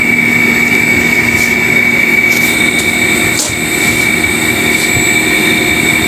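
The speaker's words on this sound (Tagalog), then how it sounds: "maingay na yung pinakapan niya" An LG Dual Inverter air conditioner fan runs noisily after cleaning, producing a loud, constant whir with a steady tonal hum and faint rattling ticks over its broad airflow rush.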